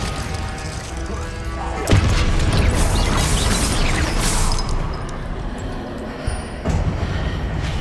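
A Confringo blasting spell explodes in Hogwarts Legacy, a loud crashing boom that sets in sharply and rumbles on for several seconds, with a smaller burst near the end.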